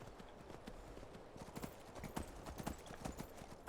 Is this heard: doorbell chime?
no